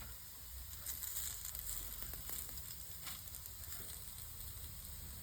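Slices of raw banana (balekayi) sizzle on a hot tava in a steady, dense frying hiss, close and even throughout, with a few faint clinks and no voices.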